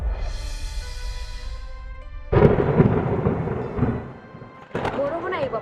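Thunder crashes in over a soft musical passage, with a heavy broadband rumble and the hiss of rain that eases, then swells again as a voice briefly speaks near the end, set in a rainy romantic scene.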